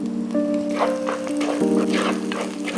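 Green chillies sizzle and crackle in hot oil for fish curry, a steady close frying hiss with popping spatters under a low hum.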